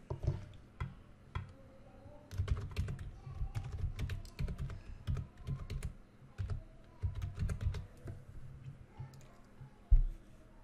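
Close computer keyboard typing as a file name is entered, bursts of quick irregular key clicks separated by short pauses, with a few sharper clicks, no one talking.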